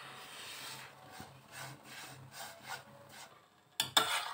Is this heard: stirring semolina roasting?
yes